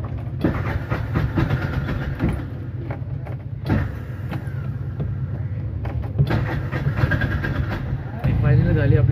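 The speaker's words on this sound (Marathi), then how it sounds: "फायनली झाली आपली गाडी स्टार्ट." A truck's diesel engine starts and settles into a steady, close low rumble that grows louder near the end, with people talking over it throughout.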